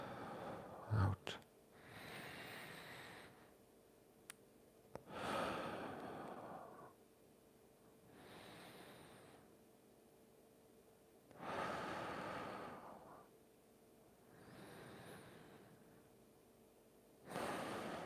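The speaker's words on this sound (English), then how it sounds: "And now we're going to do some breathing" Slow, deep breaths during a full-body mobility routine at home. There are about six long, soft inhale and exhale swells, evenly spaced a few seconds apart, quiet and close, with no talking.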